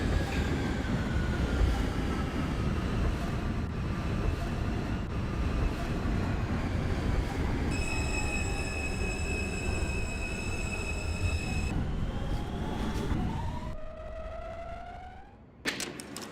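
R160 subway train on a Manhattan-bound F local, simulated in OpenBVE, rumbling steadily with rising and falling motor whine, a sustained tonal chime-like section midway, then squealing wheels and a drop in noise near the end.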